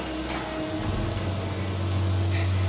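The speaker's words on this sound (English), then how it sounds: "it is raining in Whiterun" Steady rain patters down on the city of Whiterun in the video game Skyrim, a soft, even hiss with a low hum beneath it and no voices.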